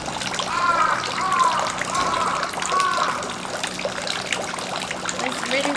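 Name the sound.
water poured to rinse hands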